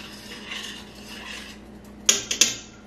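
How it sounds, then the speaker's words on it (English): Metal utensil scraping and clinking against a pot of gumbo, with a soft stir followed by three sharp clanks near the end. "And we're just gonna stir that around."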